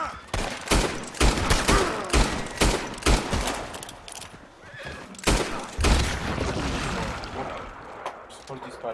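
Gunfire in the Red Dead Redemption 2 video game: repeated sharp shots in bursts across the clip, mixed with horse whinnies and busy game sounds, with a voice talking over parts of it.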